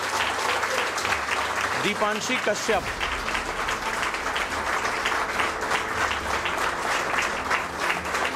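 Loud, sustained applause from an audience at a UPSC mock test results event in India, dense clapping filling the whole stretch, with a voice announcing a name near the start.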